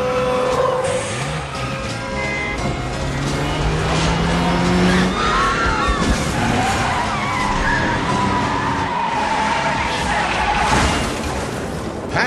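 A car skids hard with long squealing tires and a roaring engine. The sound is loud, dense and continuous throughout, with rising and falling screeches over a steady rumble.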